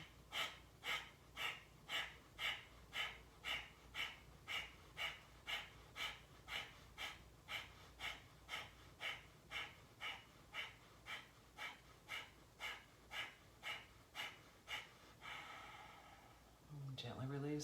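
Slow, deep breathing in a guided breathwork session: steady, evenly spaced breaths close to the microphone, about one per second, closing with a longer drawn-out exhale and a soft voiced sound.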